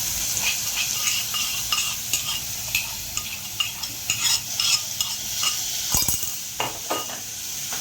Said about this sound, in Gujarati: હિંગ નાખીને આપણે જે આદુ લસણ ને મરચાંની પેસ્ટ કરી છે ને એ નાખી દઈશું.